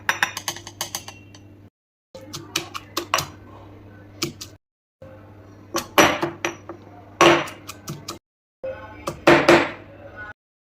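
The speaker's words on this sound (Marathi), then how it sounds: "नंतर हे सगळं मिश्रण आपण खलबत्त्यामध्ये ओबडधोबड थोडंसं वाटून घ्यायचं" Roasted spice mixture pounded coarsely in a mortar and pestle while cooking ridge gourd bharit: sharp, irregular clinking thuds in short bursts separated by brief pauses, close and fairly loud, with no talking.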